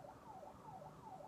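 Distant ambulance or fire engine siren wailing in a steady rising-and-falling cycle, faint and alone with no talking over it.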